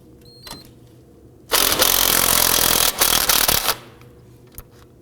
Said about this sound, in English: I'm going to go ahead and use my impact gun, and we're going to go ahead and loosen this